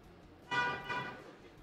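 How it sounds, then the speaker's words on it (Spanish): A car horn gives two short, fairly faint honks in close succession, heard from indoors in a quiet room. "¿Qué onda con el claxon ahí?"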